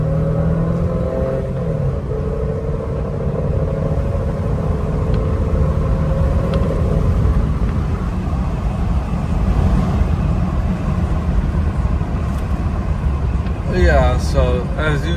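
A 2005 Toyota Solara SLE accelerates with a steady, heavy engine rumble and road noise from inside the cabin, droning continuously while a voice talks faintly over it.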